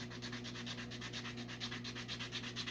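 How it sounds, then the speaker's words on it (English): Steady rhythmic sanding on a wooden feather, quick back-and-forth rubbing strokes repeating evenly, close and fairly quiet. "It's like I'm sanding through the feather."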